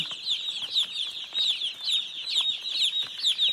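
Newly hatched one-day-old baby chicks cheep nonstop in a dense, high-pitched chorus of overlapping peeps, close and steady throughout, with faint rustling and scuffling beneath.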